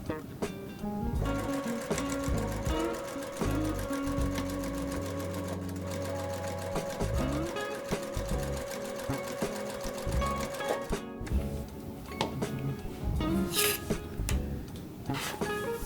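A sewing machine stitches quilt blocks together, running in a steady continuous whir with stops and restarts, loud and close, with faint talking in places.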